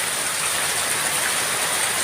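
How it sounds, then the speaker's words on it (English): Heavy afternoon rainstorm in the Philippine countryside: a dense, steady broadband roar of pouring rain, loud and unbroken throughout, with no voices. "You can see the rain coming across, lightning, thunder"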